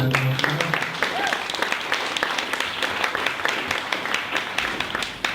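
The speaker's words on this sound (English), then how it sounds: "let's give our speaker a big round of applause" Audience at a social media talk gives the speaker a round of applause, sustained brisk clapping close to the microphone with a brief voice at the start.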